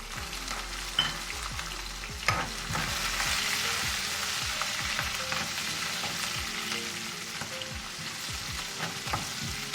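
Curry leaves and green chilli fry in oil for sabudana khichdi, giving a steady hiss dotted with quick crackles and spits, plus a few utensil knocks, with no talk.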